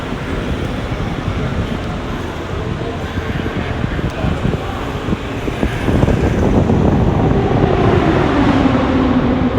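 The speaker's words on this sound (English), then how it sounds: "we can still hear the cars going by" Race cars circling the Indianapolis Motor Speedway during 2019 Indianapolis 500 qualifying are heard from afar as a steady, blended engine drone over crowd ambience, swelling slightly louder toward the end.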